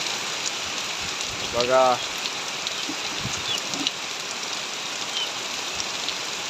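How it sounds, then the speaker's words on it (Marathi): Steady monsoon rain hisses down evenly over farm fields, a dense wash of drops throughout. Someone speaks one brief word near the start. "पण मात्र आज 30 जूनला पाऊस आलेला आहे"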